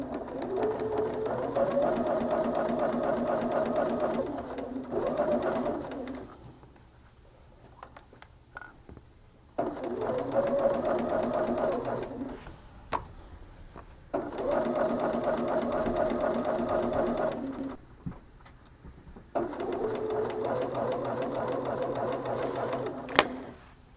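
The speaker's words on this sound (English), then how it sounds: "Place the point under your presser foot using your 1/4 inch foot as a guide, and sew." Sewing machine stitching half-square triangles for a quilt, using a 1/4 inch presser foot: four steady bursts of rapid mechanical whirring, each several seconds long, separated by quiet pauses, close and clear with no talking.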